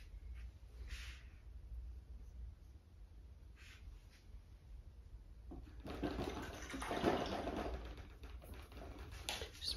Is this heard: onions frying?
no